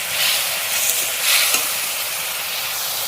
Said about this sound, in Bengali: মাছটা ভেজে আর মাছের ঝালটা বসিয়ে দিয়েছি।